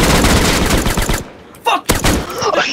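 Video game gunfire, a dense burst of rapid automatic shots followed by a few separate sharp blasts, loud and close, with brief voice chat between players.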